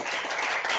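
An audience claps together at the close of a nanomaterials conference session, a dense, even burst of applause in a room that lasts under a second.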